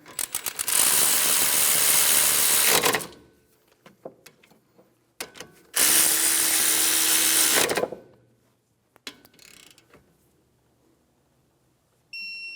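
Power tool running down brake caliper bolts on a 2013-2017 Honda Accord, two loud sustained whirring bursts of about two seconds each, close, with clinks and handling noises between them.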